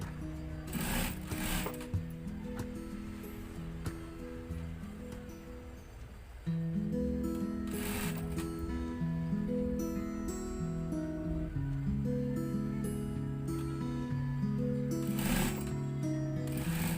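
A sewing machine stitches piping onto a blouse in a series of close, rhythmic whirring runs, pausing briefly between bursts with occasional fabric handling.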